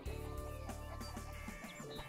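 Chicken clucking from the Shrek 2 PlayStation 2 video game, a short run of loud, close clucks over steady game music, with no talking.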